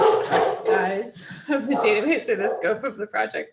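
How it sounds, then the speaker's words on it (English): A dog barks and yips intermittently in the background of an indoor talk about website upgrades, with someone speaking steadily over the sound throughout. "sorry about the dog"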